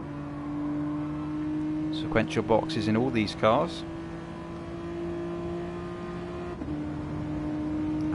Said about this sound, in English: Feeding the power on, the sound of that V6 Clio.